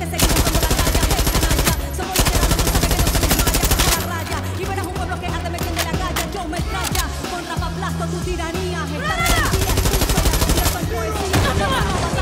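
Sustained machine gun fire in the video game Far Cry 6, loud and rapid with bursts broken by short pauses, layered with other in-game combat noise throughout.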